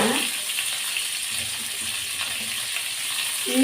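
Sliced onions, tomatoes and a few cashews sauté in hot oil in a pan, giving a steady close sizzle throughout with occasional faint stirring scrapes.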